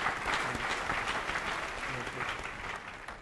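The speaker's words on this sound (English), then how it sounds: "Well done. Let's give them a round of applause." Audience applause for a team that has just presented an innovation and received its score at a televised zero-waste challenge event, steady dense clapping heard alone at fairly close range for a few seconds.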